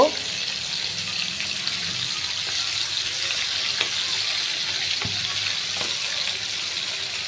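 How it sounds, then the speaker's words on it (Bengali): Small hilsa fish, packed with roe, frying lightly in a pan of hot oil, giving a steady soft sizzle and crackle throughout with a few faint clinks, without any talk. "আমি মাছগুলো বেশি কড়া করে ভাজবো না হালকা করে ভেজে নেব"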